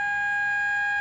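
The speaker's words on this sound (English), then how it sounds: "These are sirens in the towns that I live in." Town sirens sound as one steady, unbroken wail, loud and unchanging throughout, with no voices heard.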